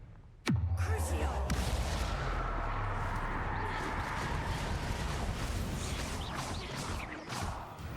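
Explosive spells cast in Hogwarts Legacy, a sudden sharp blast followed by a dense, crackling roar of debris and rumble that sustains loudly for several seconds, with a voice barely under it.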